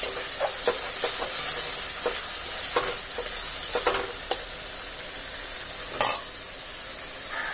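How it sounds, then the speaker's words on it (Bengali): A spice paste being fried and stirred in a pan for a goat meat curry, a bright continuous sizzle broken by scraping spoon strokes, with one louder clatter near the end. "মশলাটা কষাচ্ছে"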